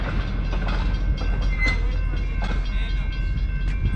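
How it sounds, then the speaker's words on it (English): A train with passenger cars rolls past at an outdoor museum, with a steady heavy rumble, rhythmic clicking of wheels over joints and faint squealing tones, continuous and close. "I think there's a train you can ride to that has passenger cars."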